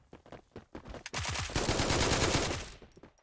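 In the video game Forward Assault, an AK rifle fires a few single shots and then a sustained, loud burst of rapid automatic fire lasting about a second and a half.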